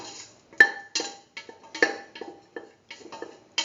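Raisins being sauteed in a pan for beetroot semolina pudding, with a spatula giving light clinks and scrapes against the pan in an irregular series of short taps, fairly close and quiet, with no talking.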